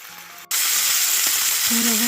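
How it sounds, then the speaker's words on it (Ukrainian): Goose meat hits a hot oiled pan over high heat with a sudden loud sizzle that keeps hissing steadily; a brief faint voice comes through under the frying. "обсмажуємо м'ясо з усіх сторін на великому вогні"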